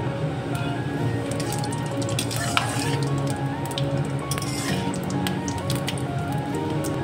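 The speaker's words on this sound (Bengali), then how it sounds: "তেজপাতা, শুকনো লঙ্কা, তেলটা গরম হয়ে গেছে, এলাচ 4টে, দারচিনি 2 টুকরো, জিরে" Bay leaf, dried chilli, cardamom, cinnamon and cumin sizzle steadily in hot oil, a continuous close crackling fry with small pops, with no talking.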